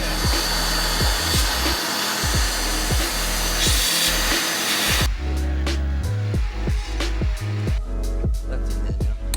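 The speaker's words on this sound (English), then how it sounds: "Use a drill again." A power drill whirs in short repeated bursts, loud and close, with a higher-pitched run near the end.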